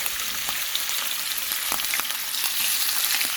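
Saltfish sizzles and crackles in a hot frying pan, a steady, close hiss of frying oil with occasional pops and light stirring, no voices.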